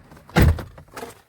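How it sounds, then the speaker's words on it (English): Door of a GMC Acadia SUV opened from inside, giving a single solid thunk of the latch and door, followed by a fainter shuffle, close and alone with no talking. "I'm gonna open this door so I can cut everything off"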